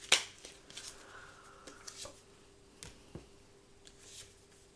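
Tarot cards being shuffled and drawn: a crisp riffle, then a string of light flicks, taps and slides of cards at an uneven pace, close and quiet with no talking.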